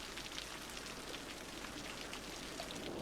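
Rain in the Cities Skylines game falls as a steady, dense hiss of drops, soft and even throughout the short stretch with no voices.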